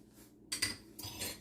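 A metal fork and knife clinking in a home kitchen, two or three quiet, bright clatters close by with short gaps between them.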